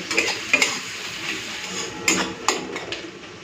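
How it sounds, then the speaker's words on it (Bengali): Onion frying in a pan until reddish, with a soft continuous sizzle and a few sharp clinks and scrapes of a utensil stirring against the pan, close and alone without any voices. "তো এই পেঁয়াজটাকে না একটুখানি লাল করে ভেজে নিই"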